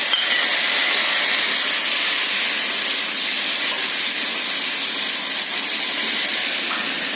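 Chopped tomatoes dropped into hot spice tempering of red chilli, turmeric and coriander powder, giving a loud, continuous sizzling hiss that stays steady throughout.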